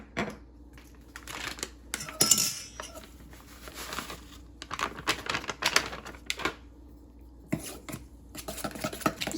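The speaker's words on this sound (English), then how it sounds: "Stir that up a little." A utensil stirs muffin batter made with a milk substitute in a bowl, with irregular close clicks and scrapes against the sides and faint room noise between strokes.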